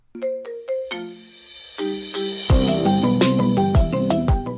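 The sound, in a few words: incoming phone call ringing on Apple HomePod 2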